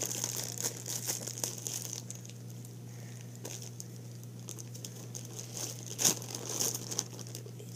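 A Pokemon card pack's foil wrapper is torn open by hand without scissors: steady close crinkling and rustling with a sharp louder rip near the end, no talking.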